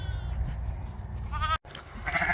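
Sheep on a farm during lambing season bleat briefly over a steady low rumble of wind or handling noise, with one short bleat in the middle and a fainter one near the end.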